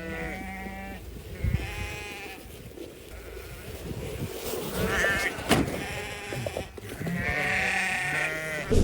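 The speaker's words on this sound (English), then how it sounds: "Hey, sheep." Sheep on a farm bleat repeatedly in a series of wavering, nasal calls, some overlapping, fairly close and loud over faint background noise and occasional thumps.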